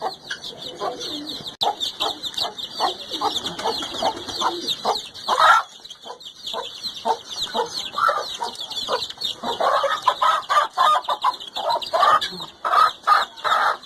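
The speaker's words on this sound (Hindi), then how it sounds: "मैं मुर्गी पकड़ता हूँ अभी" A mother hen clucks and squawks in quick, agitated bursts up close as she is caught, with a rooster crowing and a steady high chirping hum behind them.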